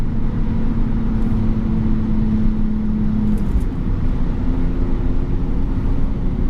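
A stock M52-engined BMW E46 pulls in third gear at around 5,000 RPM near 60 mph, a steady, loud engine drone whose tone shifts slightly midway through.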